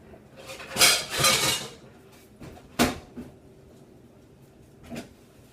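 Someone rummages through kitchen utensils hunting for a grater, with bursts of clattering metal and knocking cupboard sounds separated by quieter pauses, close by and without speech.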